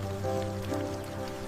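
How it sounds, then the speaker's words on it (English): Heavy rain falls steadily on a surface, a dense even wash of drops with no break in intensity and no voices. "James, It's raining pretty hard."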